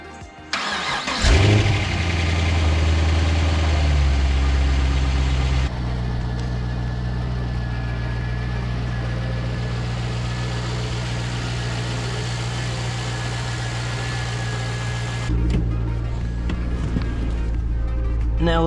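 A Pontiac GTO engine cranks and catches, revs up loudly, then settles into a steady, rumbling idle as it warms up. The loud, even drone holds to the end with no talk over it.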